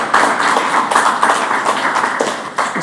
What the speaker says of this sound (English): Can we have some applause from the audience for this fine panel?